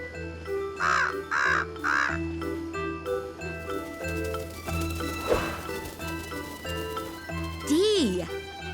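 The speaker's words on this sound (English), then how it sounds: "Crow carries candy corn." A cartoon crow caws three times in quick succession early on, with a later swooping bird call near the end, over light music and narration in an animated children's alphabet storybook.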